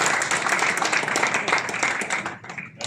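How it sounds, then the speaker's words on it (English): Audience at a book release event claps in sustained applause, a dense patter of many hands at moderate loudness that thins slightly toward the end. "I thank all the judiciary people, judges, for giving a applaud for my friend and classmate."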